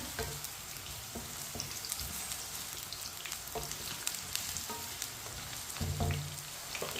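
Eggplant pieces sizzling and frying in hot oil, a steady crackling hiss with occasional scrapes of a stirring spoon, close and even throughout.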